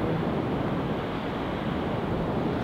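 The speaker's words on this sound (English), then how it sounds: "Oh, rough water. Oh, there it is." Rough water waves churn somewhere out of sight near a wooded area, a steady, dense rushing wash with no let-up and no voices over it.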